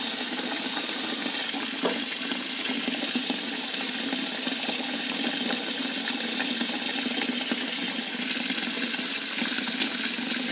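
Water runs steadily into a sink basin, a continuous broadband rush that holds even and fairly loud throughout, with no talking.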